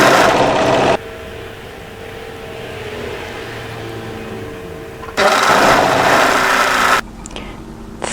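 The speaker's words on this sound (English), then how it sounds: "So come and overlock through the first notch here." An overlocker runs in two loud bursts as it stitches through dress fabric, with a quieter machine hum in between and a brief mechanical rattle at the end.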